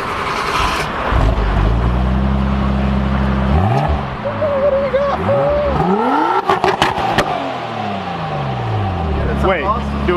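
A car engine revs repeatedly through a new aftermarket exhaust, rising and falling in pitch with a deep, throaty exhaust note, close by, while people talk over it.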